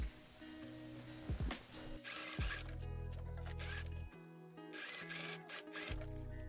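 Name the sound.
sewing machine sewing corduroy fabric edges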